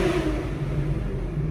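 Porsche 911 Carrera 4S with a naturally aspirated engine and Sport Chrono pack revs in a low, steady, throaty drone, close and loud with no talking over it.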